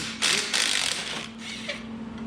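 A ratchet tightens bolts during a 1965 Chevrolet Impala SS engine swap, giving two short bursts of rapid clicking up close, then fainter scattered clicks and a steady background hum.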